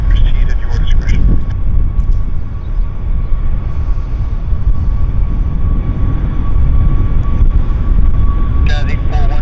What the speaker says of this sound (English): Air Canada Max is rolling.